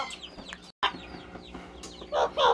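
A violet green Indian ringneck parrot chick gives short chirps and squawks at close range, ending in a couple of louder harsh squeaks, with background rustling.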